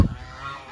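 Ducks calling as they arrive, a single loud nasal honk right at the start that fades into a quieter outdoor background.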